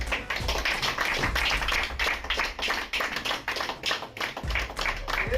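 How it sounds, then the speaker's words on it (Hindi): Loud applause honours the chief patron at a Constitution Day gathering of LIC employees, many hands clapping close by in a steady, dense patter that keeps going without a break. "आ जाओ, आइए जोरदार तालियां।"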